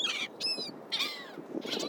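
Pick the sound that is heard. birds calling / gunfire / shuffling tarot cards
birds calling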